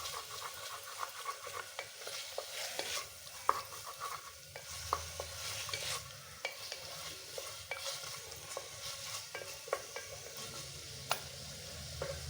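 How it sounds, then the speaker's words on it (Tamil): Mutton with tomato and onion is stirred in a pot for soup, a quiet close sizzle beneath repeated scraping strokes and light clicks of a spoon against the pot. "மட்டன் போட்டு நல்லா மிக்ஸ் பண்ணி விடுவோம்."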